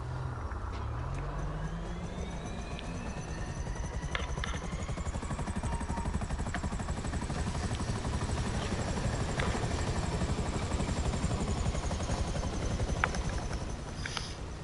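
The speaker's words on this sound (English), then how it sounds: "let's get the Buzzard out" A Buzzard attack helicopter in GTA V Online drones steadily throughout, with a continuous rotor chop and turbine whine that stays loud and close for the whole stretch, with no speech.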